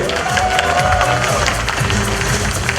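A graduation audience applauds continuously, a loud, thick roar of clapping and crowd noise that stays even for a few seconds.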